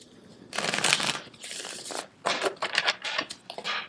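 Tarot card deck being shuffled up close, several quick riffling and sliding bursts separated by short pauses, heard without any talk.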